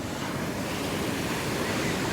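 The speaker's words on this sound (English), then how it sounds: "Look at those waves, man. They're giant." Big surf rolls in on the Gulf of Mexico under a red flag warning, a continuous loud roar of breaking waves mixed with gusting wind buffeting the microphone.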